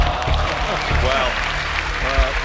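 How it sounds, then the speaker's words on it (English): A squash match crowd breaks into loud, sustained applause after a brutal rally, clapping densely and close, with a commentator talking over it. "crowd absolutely loving that"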